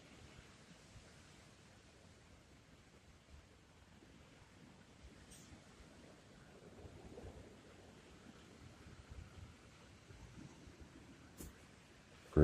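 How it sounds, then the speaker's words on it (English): Strong mountain wind on an exposed hiking trail in the Great Smoky Mountains, a steady low roaring rush with gusts building toward the end and buffeting the microphone. "it's strong enough wind to be shaking me around a little bit"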